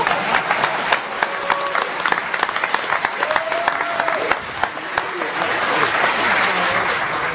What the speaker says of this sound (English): Everybody want to clap for Dan Kaminsky